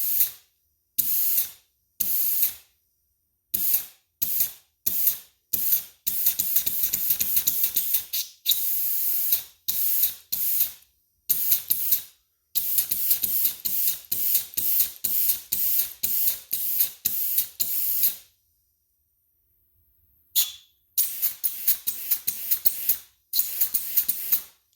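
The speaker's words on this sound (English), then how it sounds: "we're going to hit it and see if it shoots the grease across the room" Air-powered grease gun firing grease in repeated short bursts of loud hissing spray, separated by brief pauses and a longer gap near the end, with no talking.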